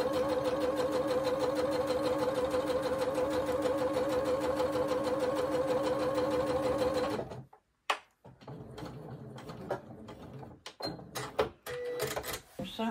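A sewing machine runs steadily for about seven seconds while stitching quilt fabric strips, a close, continuous whirring drone that then stops, followed by handling clicks and rustles of the fabric.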